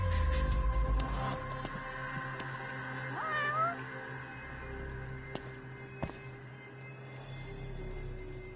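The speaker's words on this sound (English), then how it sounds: "Oh, look, a cat." A cat meows in the Judgment video game, a few drawn-out mews rising and falling over steady game background music and ambience, with no talking.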